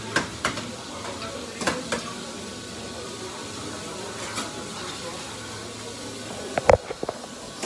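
Pasta added and stirred in a frying pan for spicy pollo picante pasta, a soft sizzle under scattered scrapes and a few sharp clanks of utensil against the pan near the end.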